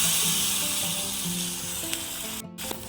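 Loud hissing sizzle as hot tempering hits a pot of boiling rice for pongal, fading slightly over a few seconds, with a brief clatter near the end.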